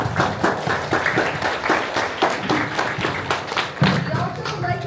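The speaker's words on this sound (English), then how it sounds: "So a round of applause for them, please." Audience applause at a youth innovation camp, a steady patter of many hands clapping through the whole stretch, moderately close, with a little voice mixed in.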